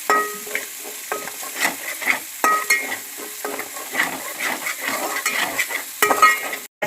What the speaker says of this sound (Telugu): దీన్ని దోరగా వేయించుకోవాలి.